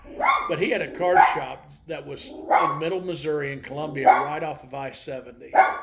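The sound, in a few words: dog barking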